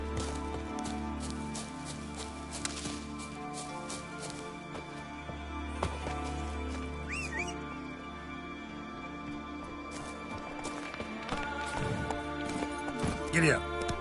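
Horse hooves from The Witcher 3 clip-clop at a steady pace through a game scene, with music and other game sounds around them and voices talking at times.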